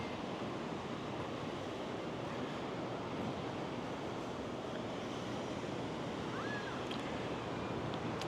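Ocean surf rolling onto Manhattan Beach in the Los Angeles area, a steady broadband wash of breaking waves with some wind, constant and fairly distant throughout.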